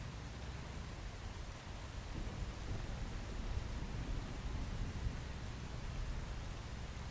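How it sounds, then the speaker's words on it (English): Steady rain pours in the survival video game Once Human, a dense, even wash of broadband noise that holds throughout, with possible low rumble suggesting distant thunder and no voices. "It's been raining a lot in game."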